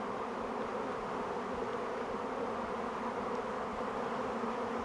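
Honeybees buzzing around a hive, a dense, steady hum with no break, moderately loud and close, with no voices over it.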